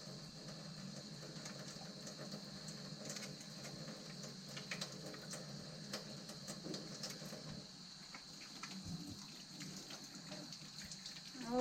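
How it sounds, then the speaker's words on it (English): Tap water runs steadily while hands are washed before cooking, a quiet, continuous rush in a kitchen with no talking. "always a good idea to start by washing your hands before you start any cooking"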